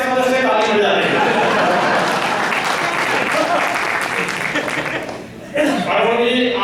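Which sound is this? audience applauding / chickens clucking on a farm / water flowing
audience applauding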